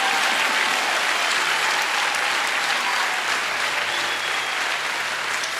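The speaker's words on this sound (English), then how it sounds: "Clap your hands for Jesus." A church congregation claps hands in a loud, steady, sustained wash of applause that fills the whole stretch without pause.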